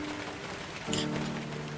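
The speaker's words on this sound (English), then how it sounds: "we went from dark to rain, so yay." Steady rain falls across the Skyrim landscape in a heavily modded game, a soft continuous hiss with a brief louder swell partway through.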